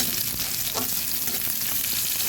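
Onions frying in a pan, a dense, continuous close sizzle and crackle, evenly loud throughout.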